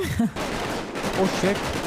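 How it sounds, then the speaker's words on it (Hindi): Gunfire at a door in the video game GTA V: a few sharp shot cracks in quick succession over a short, busy stretch with game noise, no clear talk. "मेरे दरवाजे पे गोलियां चल रही है भाई"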